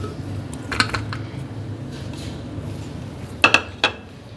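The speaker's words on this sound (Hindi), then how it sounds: "सबसे पहले मैंने एक ब्लेंडर जग लिया, तो इसमें हम डाल देंगे ये स्ट्रॉबेरी कटी हुई।" Cut strawberries drop into a blender jug with a few light clinks and taps, two small knocks early on and a quick cluster near the end, all over a low steady room hum.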